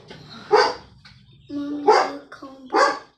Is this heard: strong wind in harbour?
no